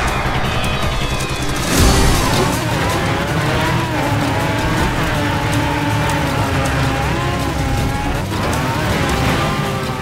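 Engine whine and tire skids from the ATV Quad Power Racing 2 video game, a loud continuous motor drone that rises and falls in pitch with shifts, with a sharp skid burst early on.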